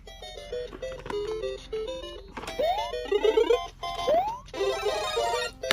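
A toy Mario playset chirps out a theme in bright electronic beeps, with rising jump-like sound effects layered over the tune, close and moderately loud.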